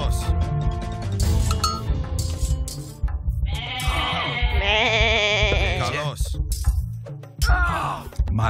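Goats in the strategy game Age of Mythology bleat in wavering cries amid game music and clinking effects, with someone talking over parts of it.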